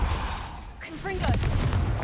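Confringo fire-blast spell cast in the video game Hogwarts Legacy, a loud rumbling boom with crackling burst, a short in-game voice sounding under the blast.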